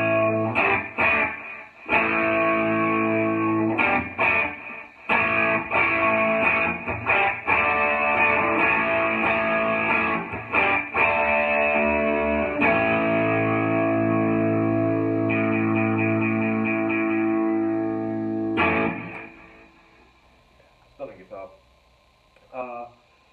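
A Rickenbacker 360 Mapleglo electric guitar with heavy distortion plays sustained chords and short riffs, ringing loudly before fading into a few sparse, quieter notes.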